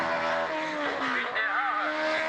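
A Marcos race car drives on a circuit, its engine note rising and falling as it passes at moderate distance, with a faint tire squeal mixed in.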